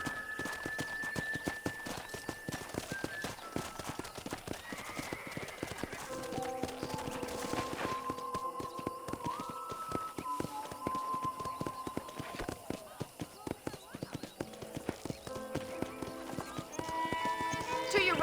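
Steady clip-clop of a horse trotting around a ranch in Red Dead Redemption 2, under a voice and light music, with a brief whinny at one point.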